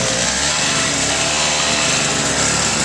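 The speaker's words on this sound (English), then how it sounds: "I think it's a one-way lawnmower." A lawnmower engine runs continuously and loudly close by, a steady dense drone with no pauses, used to clear snow after a blizzard.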